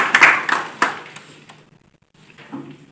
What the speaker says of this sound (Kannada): ನ್ಯಾಯಾಧೀಶರಿಗೆ ಜೋರಾಗಿ ಚಪ್ಪಾಳೆ ಮುಖಾಂತರ